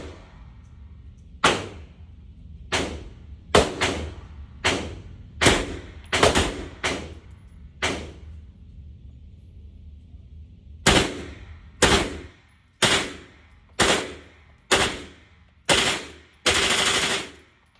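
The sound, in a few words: Century Arms AP5 firing full auto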